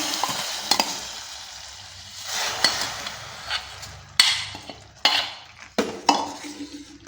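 A spoon scrapes and clinks against a pan as fried vermicelli (semiya) is stirred for a sago payasam, with a soft sizzle underneath and several sharp metallic knocks toward the end.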